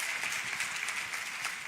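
Church congregation claps in a brief, even patter of applause, fairly quiet and steady throughout, with no voices standing out.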